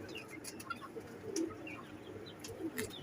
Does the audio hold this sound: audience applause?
no